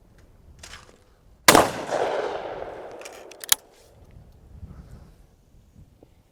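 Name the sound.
shotgun firing at a thrown clay target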